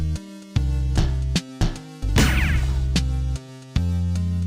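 Triplet rhythm cue from the video game Rhythm Paradise Megamix, a bouncy musical loop with bass notes and a burst of cymbal-like noise, steady game music, no talk.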